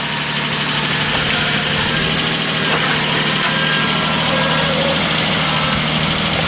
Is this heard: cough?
no